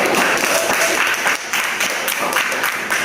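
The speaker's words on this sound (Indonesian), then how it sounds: "Berikan dulu tepuk tangan yang meriah." A classroom group claps for presenting classmates during a school teaching-practice session, with loud, close, dense applause running the full three seconds and slightly uneven in intensity.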